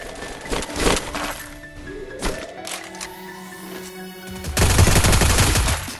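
Gunfire in the video game Garena Free Fire, with bursts of sharp shots, a dense loud volley near the end and game effect sounds between them.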